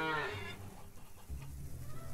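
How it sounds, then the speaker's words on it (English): A cow in the farming game Farmer's Dynasty gives one long, loud moo at the start, followed by softer low in-game ambience and a faint second low call. "good morning, cows"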